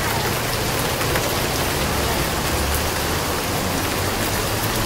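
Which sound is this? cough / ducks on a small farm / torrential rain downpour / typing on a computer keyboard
torrential rain downpour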